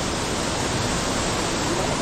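Swollen stream flowing steadily, a dense, even rush of water close by with no pauses, heard alone without talk.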